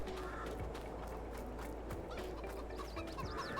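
Chickens cluck in a Farming Simulator 22 farmyard, a steady scatter of hen calls over a constant low hum of game ambience, with no talking.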